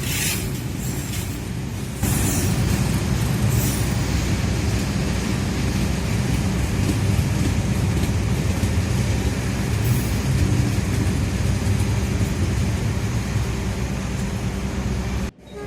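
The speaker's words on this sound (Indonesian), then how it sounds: "Kereta Argo Bromo Anggrek telah tiba di stasiun Gambir teman-teman" Heavy mechanical rumble of the Argo Bromo Anggrek express train arriving at Gambir station, a broad steady roar that swells after a couple of seconds and cuts off abruptly at the end.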